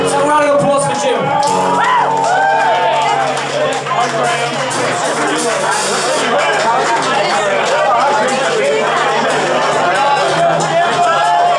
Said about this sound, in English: So a round of applause for Jim.